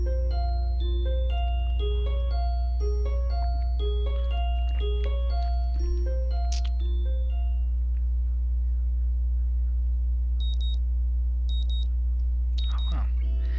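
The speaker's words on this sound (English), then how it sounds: "The sound of an alarm pulls me out of a fitful slumber" An alarm clock in the Katawa Shoujo visual novel plays a beeping melodic jingle of repeated tones, followed by a few short electronic beeps, loud and close over a steady low hum.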